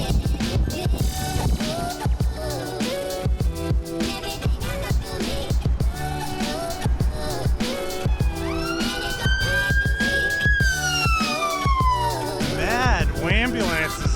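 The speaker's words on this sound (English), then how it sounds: "Ambulances in the vlog lately." An ambulance siren wails past in the second half, its rising and falling sweeps standing out clearly over a busy, rhythmic background that runs throughout.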